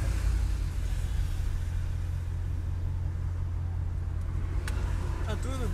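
A Ford Mustang GT with a 5.0 V8 engine running outdoors gives a deep, steady idle rumble throughout, loud and close, while people talk nearby.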